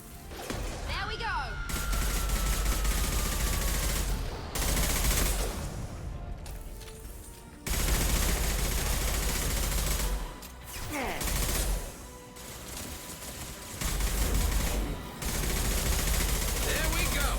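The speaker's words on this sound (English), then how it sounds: "Firing an impact shot!" Repeated gunfire in the Mass Effect video game, bursts of shots including an impact shot with crashing impacts, loud and dense in several long volleys separated by brief pauses, with a voice speaking over parts of it.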